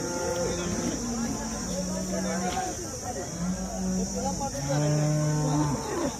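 Cows moo repeatedly at a busy farmers' cattle market in Sangola. Several long, drawn-out calls come from nearby and overlap with a steady hum and people talking in the background.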